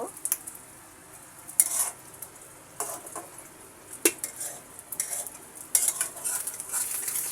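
Potato, carrot and gourd-peel bhaji is stirred in a pan with a utensil, scraping and clinking against the metal in irregular bursts over a faint sizzle, close and fairly quiet, with no voices.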